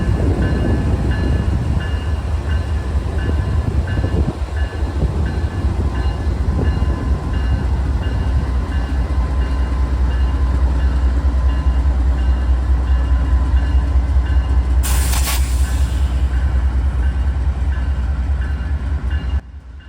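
A heavy freight train rumbles past close by in Elkhart, Indiana, a steady loud roar of rolling wagons with a brief high-pitched squeal near the end.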